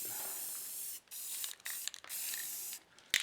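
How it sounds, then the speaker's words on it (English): Pink aerosol spray paint hissing in several close bursts onto a scrap-metal knife blade, with short pauses between sprays and a sharp click at the end. "I'm going to be using some really epic pink spray paint that I had left over"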